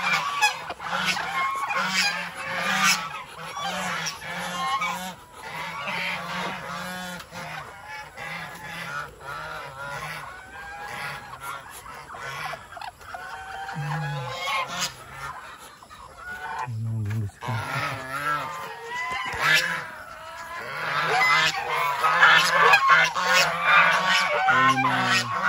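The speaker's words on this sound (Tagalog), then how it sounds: "Ating gansa. So, iingay nila." Geese honk loudly and repeatedly in a noisy farmyard, with chickens clucking and a rooster crowing among them, the calls overlapping almost constantly and growing louder toward the end.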